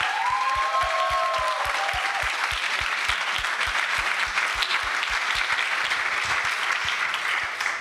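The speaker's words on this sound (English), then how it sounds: "I would like to ask another round of applause for all the 10 teams presenting today" An audience at a Formula Student East 2023 business plan presentation final gives a steady round of applause, dense clapping sustained at an even level throughout, with a faint tonal sound briefly audible early on.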